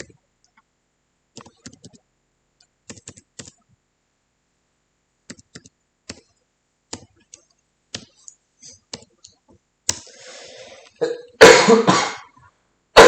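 Several coughs and throat-clearing bursts from someone who is sick, mixed with sparse keyboard clicking in a quiet room, building to louder, harsher coughs near the end.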